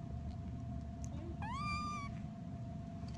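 A single feral kitten gives one clear, rising meow lasting well under a second. It sounds close and alone over a steady low background hum.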